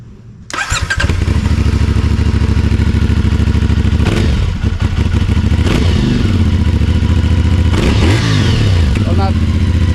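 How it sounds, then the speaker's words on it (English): A 2024 CF Moto 450 SS motorcycle on its original stock exhaust starts up and settles into a loud, close idle, with a few sharp revs rising and falling over the rumble. "give you a quick sound of what the original one sounds like before we change it"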